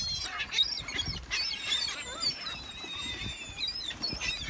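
Birds at a lake being fed bread, a flock of waterfowl honking and squawking in overlapping calls close by, with splashing and movement beneath.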